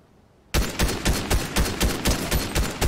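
Gunfire in the battle royale game Fortnite, starting abruptly after a quiet moment, then a rapid, steady string of loud close shots for over two seconds, with no voices.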